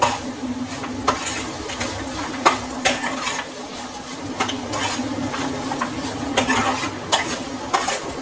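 Okra rice being mixed in a pan with salt and pepper powder, repeated scraping stirs of a spoon against the metal over a soft steady sizzle, evenly paced and close, without speech.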